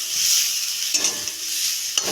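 Frying in a pan while Maggi is being made gives a steady, close sizzle, broken by two sharp scrapes of a stirring spoon.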